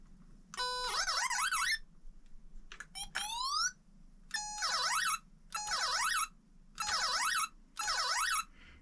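Galaxian arcade game sound test, with fire and other effects played one by one through the control buttons: repeated bursts of warbling, siren-like electronic tones, about five separate blasts plus a quick sweeping chirp, loud and alone with no talk.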